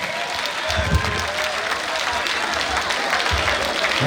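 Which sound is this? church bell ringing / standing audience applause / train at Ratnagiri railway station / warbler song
standing audience applause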